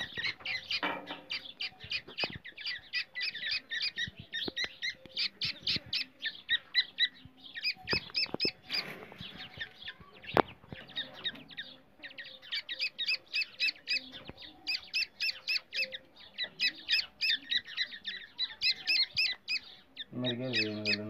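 Grey francolin (teetar) calls repeatedly in loud, rhythmic bursts of harsh, squeaky notes throughout, with brief pauses and some background rustling.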